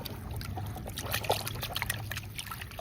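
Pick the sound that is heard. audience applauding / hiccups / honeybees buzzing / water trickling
water trickling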